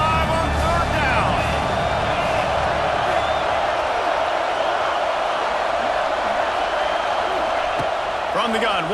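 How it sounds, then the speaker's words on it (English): Stadium crowd in EA Sports College Football 26 at an Ohio State Buckeyes game on third down, a dense, continuous roar of cheering that stays loud throughout, with game commentary running over it. "The Buckeye crowd alive on third down."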